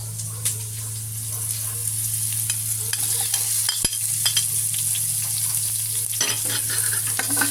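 Ginger and onion sauté in a pan for chicken tinola, with a steady close sizzle over a low hum and scattered soft stirring clicks throughout.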